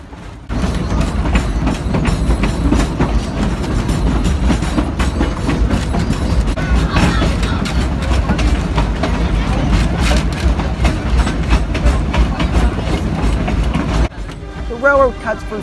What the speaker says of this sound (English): there was plenty to gawk at as the train moves at a leisure pace.